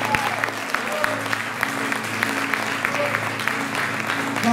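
A church congregation claps together in a steady, dense burst of applause over a sustained musical hum, while a voice speaks over it.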